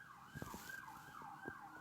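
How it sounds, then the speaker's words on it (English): An emergency vehicle siren wails and sweeps outside at a distance, a faint, rising and falling tone with some muffled thuds beneath it. "sirens"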